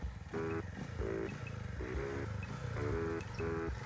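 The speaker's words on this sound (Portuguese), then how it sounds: "a moto vem dançando" A CG150cc motorcycle on a dirt trail sounds with a loud, uneven engine note, revving in repeated surges and drops as it comes through, close by.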